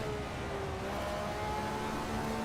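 A 1970s Formula car engine in the Assetto Corsa racing game, a continuous loud mechanical drone whose pitch climbs and shifts as the car revs and changes speed, with no voices over it.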